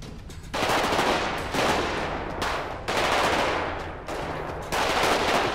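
Dense bursts of rapid automatic gunfire in GTA 5, loud and continuous, in several long volleys separated by brief pauses, with no talking.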